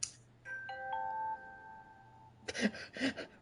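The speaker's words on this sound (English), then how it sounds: "That was my alarm." An alarm chimes alone as a short sequence of clear electronic tones, fairly faint in a quiet room, followed by a couple of soft knocks or bumps.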